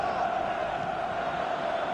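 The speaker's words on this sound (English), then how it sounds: "Crowd appreciates good football all round there" A football stadium crowd applauding good play, a steady, fairly faint roar of clapping and voices heard from a distance.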